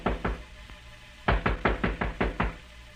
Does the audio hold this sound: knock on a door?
yes